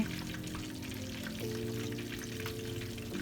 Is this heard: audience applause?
no